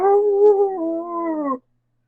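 A person imitating a dog's howl, with a single sustained, mournful voiced tone that dips slightly in pitch midway, loud and close, before cutting off abruptly.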